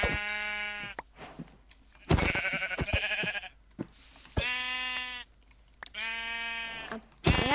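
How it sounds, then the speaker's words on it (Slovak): Sheep in the Minecraft video game bleat in several loud, wavering calls separated by short pauses, close and clear. "No tu sú ovce, poďme."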